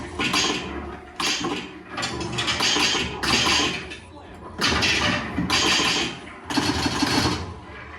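Pinball machine runs with its music and tactile feedback system going: dense mechanical rattling and buzzing come in repeated bursts of about a second, interrupted by brief dips, fairly close and moderately loud.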